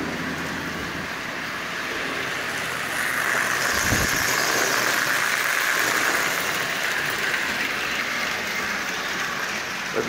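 Lionel 8142 toy train locomotive with a working smoke generator running around its track, a steady close whirring rumble of motor and wheels that stays even throughout with no talk.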